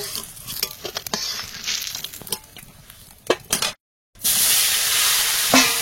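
Fish fries in hot oil in a pan, a steady close sizzle with stirring scrapes and clatter, cut by a brief silence before the loud frying resumes.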